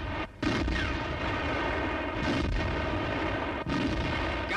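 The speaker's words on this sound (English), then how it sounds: "Haubitzen nehmen entferntere Ziele unter Feuer." Howitzer fire in a World War II strategy war game set on the Eastern Front, a steady rumbling barrage with a few deep booms standing out over dense, continuous low battle noise.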